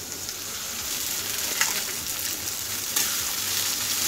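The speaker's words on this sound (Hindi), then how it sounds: "अब हम इसमें डाल देंगे पनीर, अब इसमें हम डालेंगे चावल" Paneer and rice frying in a pan, a continuous close sizzle with a couple of brief louder crackles as ingredients go in, with no talking.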